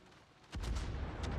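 Naval gunfire in World of Warships, a sudden heavy boom from a ship's guns that hits after a quiet moment and leaves a rumbling tail, fairly faint overall.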